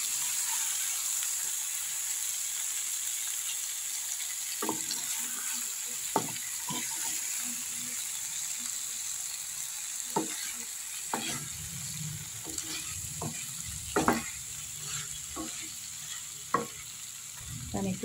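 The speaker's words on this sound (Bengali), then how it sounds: "আলুগুলো আর ডিমগুলো দিয়ে একটু কষিয়ে নেব" Potatoes and eggs frying for an egg curry, with a low steady sizzle broken by repeated clanks and scrapes of a spoon stirring against the pan.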